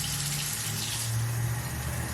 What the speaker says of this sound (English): let me add some water to this batter so we can make some pancakes